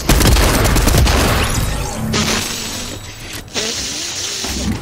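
Grenades go off in a Fortnite match as a burst of loud booming blasts with crackling debris, followed by a few quieter thuds and one more sharp pop near the end.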